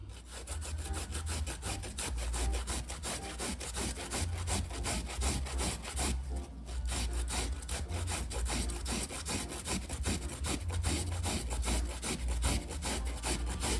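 A solid cocoa ball being grated by hand on a kitchen grater for old-school Jamaican sweet potato pudding: steady, fast rhythmic rasping strokes, close and fairly loud, with a brief pause midway and no talking.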